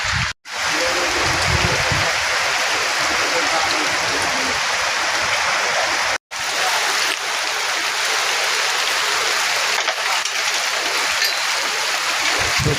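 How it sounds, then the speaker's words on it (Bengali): Heavy rain pours down during a gusty storm, a dense, loud, continuous roar of falling water, broken only by two very brief dropouts. "ঝড়ের দমকা দিচ্ছে সময় সময়, এবং বৃষ্টি অঝোর ধারাই পড়ছে"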